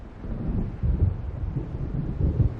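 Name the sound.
approaching thunderstorm in the video game Alan Wake Remastered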